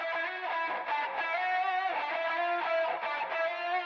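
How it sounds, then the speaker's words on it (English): Distorted electric guitar playing a jazz fusion line an octave lower, heard on its own as a sustained legato run with smooth note changes, steady and close with no voices. "Here's what the low one sounds like all on its own."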